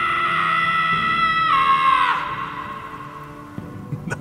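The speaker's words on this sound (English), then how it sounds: "Scream if you need to dull the pain." A loud, sustained scream from a Guardians of the Galaxy video game cutscene rises in pitch, then breaks off and falls away, followed by quieter rustling and a few soft knocks.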